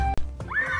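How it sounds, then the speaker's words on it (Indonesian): A horse in the video game Jurassic World Evolution 2 gives a short, close neigh with a rising, whinnying tone after a brief thump. "Ada seekor kuda teman-teman."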